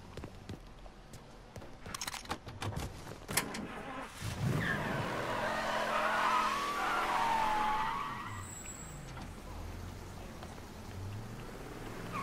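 A car driven in the video game Mafia 3, engine rumble and tyre skid swelling into a loud sustained pass with a squealing whine, over rain-like noise throughout.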